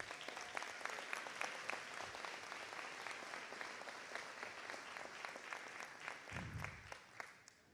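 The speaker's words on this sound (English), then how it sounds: "Let's take a moment now to congratulate and honor all of the Say Yes scholars with an applause" A graduation crowd at John Marshall School of Information Technology applauds the Say Yes scholars, a long, sustained wash of clapping that sounds faint and distant, with a few sharper claps standing out.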